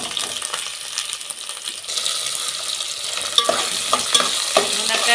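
Onions and drumstick pieces frying in oil with mustard seeds, black gram and green chillies, a steady close sizzle joined later by several bright clinks and scrapes of a metal spoon stirring the pan.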